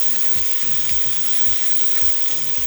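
Turmeric, galangal and spices sizzle in a hot pan with a continuous bright hiss. A faint rhythmic low thumping runs underneath.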